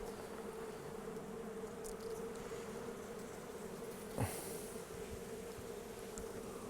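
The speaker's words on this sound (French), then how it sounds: "On fait attention à ne pas tuer les abeilles." Honeybees buzz steadily around an opened hive in a sheltered forest spot, a continuous close drone with a brief louder rustle or bump partway through.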